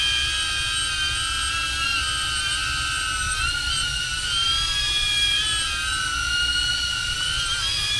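A DJI Avata drone flies and spins in circles, its propellers giving a steady high-pitched whine with shifting tones that waver as it turns, heard fairly close with no talking.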